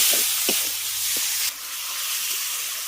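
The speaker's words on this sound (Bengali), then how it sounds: "এবার মশলাটাকে খুব ভালো করে কষিয়ে নেব" Masala with chopped tomato, chili powder and spices being sautéed in a pan, giving a steady close frying hiss and sizzle with a few soft scraping stirs of a spoon.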